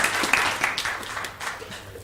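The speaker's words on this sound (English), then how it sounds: "If y'all would give those a round of applause" A room of attendees at a board of directors meeting applauds steadily, a dense wash of clapping at moderate loudness that fades slightly toward the end.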